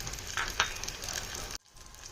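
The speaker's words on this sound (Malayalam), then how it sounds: "ഇതിലേക്ക് നമുക്ക് ചെറിയ ഉള്ളി ഇട്ട് കൊടുക്കട്ടോ ചെറിയ ഉള്ളി നന്നായിട്ടൊന്ന് മൂത്ത് വരണം" Small onions (shallots) frying in oil in a clay pot for a fish dish give a close, bright sizzle with a couple of stir scrapes, cutting off abruptly near the end to a quieter hiss.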